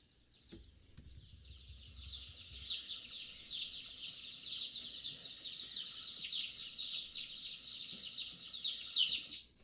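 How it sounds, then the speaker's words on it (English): A bat swarm recorded from inside and slowed down: dense, continuous high-pitched chirping and twittering, steady and building slightly, with a faint low rumble at the start. "video and acoustic data of what it is like right inside the bat swarm"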